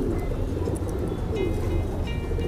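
A grey pigeon cooing at the Pasar Sapen bird market in Wonosobo, soft low coos amid busy market background noise with some nearby voices.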